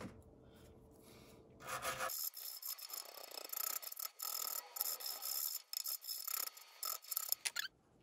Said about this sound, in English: Let's clean these threads up and put the new one on.